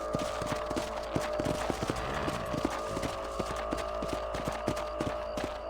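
Horse hooves clop in a steady, quick rhythm while riding in the video game Red Dead Redemption, under a constant low rumble of ambience.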